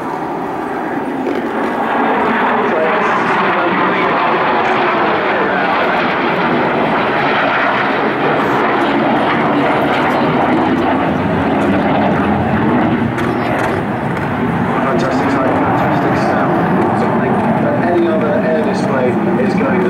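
Historic Royal Swedish Air Force aircraft flying past at the Jersey air display, a loud sustained engine roar that swells and lingers for the whole stretch while a commentator talks over it.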